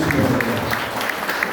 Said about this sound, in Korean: 다시 한번 큰 박수 축하해 주시기 바랍니다